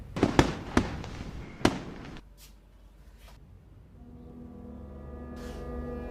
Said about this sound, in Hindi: अब तो मन करता है आराम से छत पे लेट के आसमान में रंग बिरंगे स्काई शॉट देखो